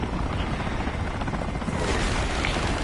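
Helicopter in the combat game War Thunder, heard as a continuous, loud rotor and engine roar with a slight swell toward the end and no clear talk over it.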